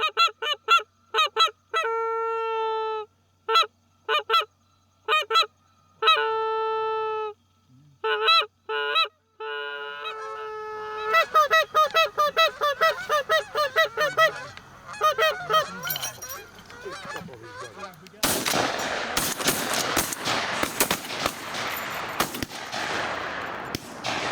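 Geese at a lake roost honk in loud, repeated bursts, the calls growing denser and overlapping into a clamorous flock chorus, ending in a noisy rush that sounds like wingbeats or splashing.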